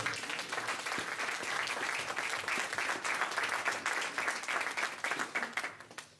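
A church congregation breaks into sustained applause, a dense, steady patter of many hands clapping that holds for several seconds and then tapers off near the end.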